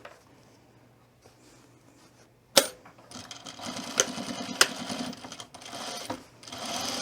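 After a quiet start, a sewing machine kicks in sharply and runs in a close, uneven whir while topstitching the casing of a tool belt, with a few clicks along the way.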